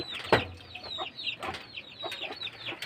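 Country chickens raised on a farm cluck in short, scattered bursts, fairly close but soft, with one sharper call near the start.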